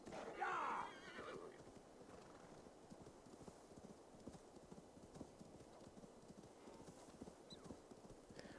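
A horse in snow in Assassin's Creed Valhalla gives a whinny, then steady clip-clopping hooves thud at a walking rhythm, close and moderately loud.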